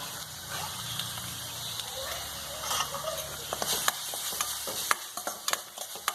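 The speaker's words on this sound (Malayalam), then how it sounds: "ഇളക്കി കൊടുക്കുക." A spoon stirs a Kerala-style pineapple stir fry in a pan, giving a soft sizzle beneath a series of scraping clinks and taps that grow sharper and more frequent toward the end, with no talking.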